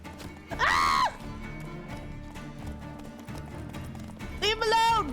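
Horses in The Witcher 3 neigh loudly twice, one whinny at the start and another at the end, over a busy game mix of hooves and clatter, with talk heard throughout.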